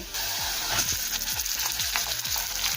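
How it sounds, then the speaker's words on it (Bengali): Marinated chicken frying over a high gas flame in a pan with onions, a dense close sizzle broken by repeated scraping strokes of a spatula as the pieces are stirred. "গ্যাসের ফ্লেম হাই রেখে চিকেনটাকে নাড়াচাড়া করে কিছুক্ষণ সময় নিয়ে রান্না করে নেব"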